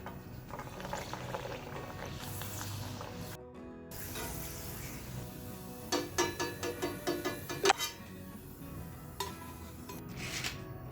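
Small rice papad chips fry in hot oil with a steady bubbling sizzle and clinks of a utensil against the pan, building to a brief burst of crackling bubbles near the end; no one speaks.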